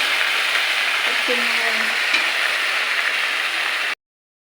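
Ginger and garlic sizzle steadily in hot oil with browned onions in a pan, a close, continuous frying hiss with a brief stir partway through and no talking.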